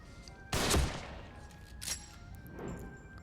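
Gunshots ring out at an enemy in The Evil Within, one sharp loud shot followed by a second weaker report and a faint third, each with a short echoing tail.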